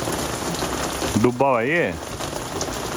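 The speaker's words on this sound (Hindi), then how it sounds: "बाहर तो बारिश हो रही है" Steady rain falls outside a balcony in Micronesia, a constant hiss and patter throughout, while someone speaks briefly over it midway.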